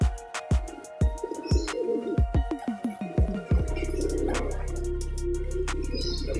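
Pigeons are heard alongside a steady series of sharp thumps, then soft cooing and flutter sound over a constant low hum in the second half.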